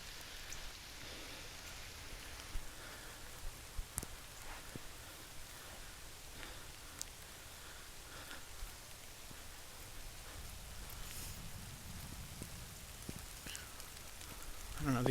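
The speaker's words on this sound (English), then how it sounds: "It's still raining" Heavy rain pours down in a Florida state park, a dense steady hiss of drops on foliage and ground with scattered sharper drips and a low rumble near the end, no one speaking.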